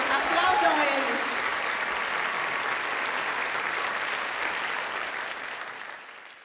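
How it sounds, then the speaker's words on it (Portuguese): A concert audience applauds musicians with dense, sustained clapping that fills the hall, holding steady for several seconds before tapering off. "por favor, aplaudam eles"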